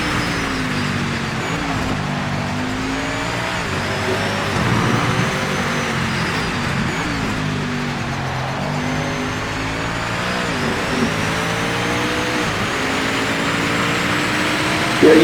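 A Panoz LMP1 prototype race car engine howls around Sebring in a racing game, loud and sustained, with pitch sweeping up and down through shifts and corners, no talking over it.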